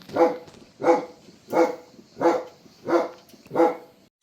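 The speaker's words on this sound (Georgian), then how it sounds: "ძაღლი რო ყევს." A dog barks six times in a steady, evenly spaced series, each bark loud and close. No one speaks.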